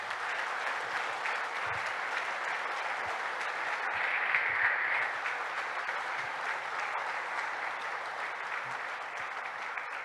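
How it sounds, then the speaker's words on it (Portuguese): A church congregation applauds steadily and loudly for about ten seconds at an evening service, a dense, even wash of clapping with a slight swell midway and no voices over it. "Dê um aplauso forte ao Senhor."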